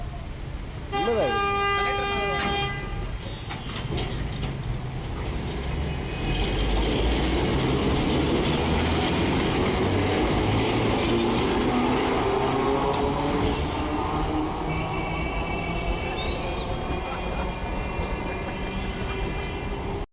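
Tram on the track at a station in Alexandria, Egypt, with repeated horn toots at the start and later, a long rumbling roll of the tram passing, and people talking nearby throughout.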